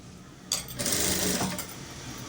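Sewing machine stitching a katori blouse, a steady whirring run of rapid needle strokes lasting about a second before easing off, close and fairly loud, with no talk.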